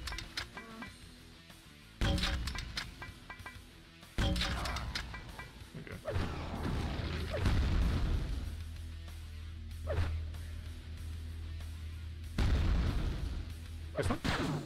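Rocket blasts from the rocket woman enemy in Quake II boom out several times at irregular intervals over a humming mechanical background, loud and fairly close.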